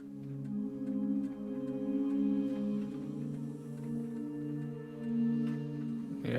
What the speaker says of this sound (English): So if I just play this sequence, this piano sequence with only this pad sound